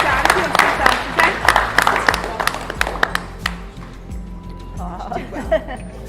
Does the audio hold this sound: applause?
yes